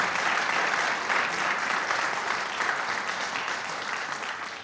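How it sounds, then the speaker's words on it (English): Audience applauding a college concert band after a difficult piece, a steady dense wash of clapping that holds loud and even throughout, tapering only slightly toward the end. "So give them a round of applause again, because it's tough."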